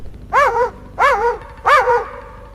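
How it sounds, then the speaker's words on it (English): Lemur alarm barks as it flees a fossa in a Madagascar forest: three loud, sharp barking calls in a steady rhythm, each a bright rising-and-falling yelp, close and alone with no other sound. "Her explosive alarm barks warn the entire scattered family troop."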